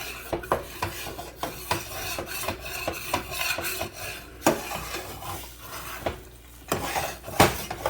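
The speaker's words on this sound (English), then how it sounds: "I got my shredder and cheese ready. I'm going to do another little scrape." Monterey Jack cheese is scraped across a metal shredder in a kitchen, giving repeated rasping strokes with sharp scraping hits in an irregular rhythm, close and moderately loud with no voices.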